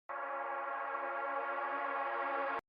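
A reversed synth beep drowned in reverb, heard dry without EQ, swells in as a steady, bright, sustained tone for over two seconds before cutting off abruptly.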